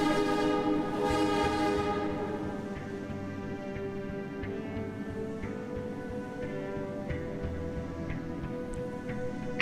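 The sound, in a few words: train arriving at Outskirts Station in Primordia video game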